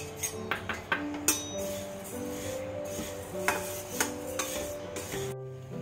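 Dal lentils being lightly fried in a pan, with a utensil repeatedly clinking and scraping against the metal in irregular strokes over steady background music.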